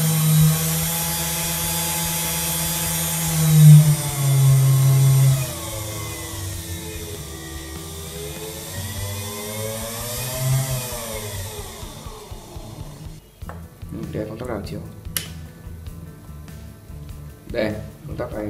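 A DC motor runs on a reversible DC speed controller rated 9–60 V, 20 A. Its steady whine sweeps up and down in pitch as the speed changes, then cuts out into scattered clicks and handling noise near the end.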